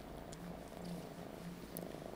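A cat purrs steadily and close by, a continuous low rumbling pulse with slight rhythmic swells over a quiet indoor background.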